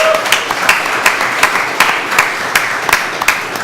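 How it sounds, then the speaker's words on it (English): Studio guests and audience give a round of applause at the start of a talk show on brand building, a steady wash of clapping with sharper individual claps standing out, fairly close and without speech. "Can I get a round of applause for our esteemed round of guests here?"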